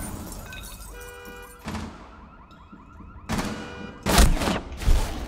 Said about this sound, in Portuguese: Vai na escada e dá uns tiros.